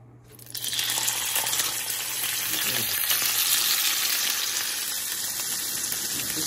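Chicken adobo sizzling and spattering in hot oil, a loud, steady crackle that kicks in abruptly after a quiet start and keeps popping close by, with no voices.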